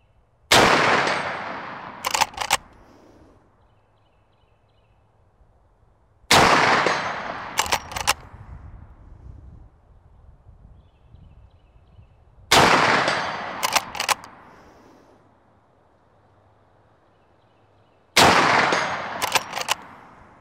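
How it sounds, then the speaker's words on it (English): Four loud Marlin 1894 rifle shots fired at a steel plate 130 yards downrange, spaced about six seconds apart, each a sharp crack with a decaying tail followed by a couple of quick metallic clicks. "I want to ring up that steel plate down there. It's about 130 yards downrange."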